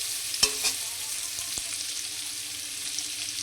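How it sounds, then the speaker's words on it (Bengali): Paneer frying in a little oil in a pan, a soft steady sizzle with a couple of sharp stirring scrapes near the start, close and quiet with no talk. "হালকা আগে পনিরটা ভাজতে হবে।"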